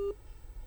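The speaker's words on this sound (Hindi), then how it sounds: "फ़ोन लाइन संपर्क टूट गया है हमारा उनसे" A phone line's busy tone after a dropped call: one short, faint steady beep at the start, then low line hiss.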